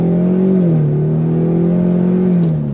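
A 2024 Ford Mustang EcoBoost pulls away from a dead stop, its engine revving loud and close, pitch climbing, dipping briefly at a quick gearshift from the 10-speed automatic, then rising again.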